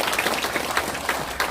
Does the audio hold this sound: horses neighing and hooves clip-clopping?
no